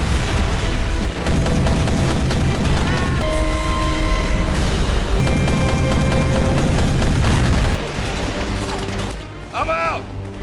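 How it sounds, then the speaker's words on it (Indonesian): A dense, loud wash of film explosion blasts and crashing debris from a palace roars continuously, with metallic rattling and a brief falling whine near the end. "Sebagian istana Vilena meledak."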